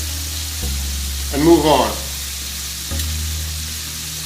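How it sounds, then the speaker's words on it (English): Lemon-pepper chicken wings fry in a skillet with a steady sizzle that swells briefly into louder crackling, while someone talks over the cooking. "too many chicken pieces frying at the same time"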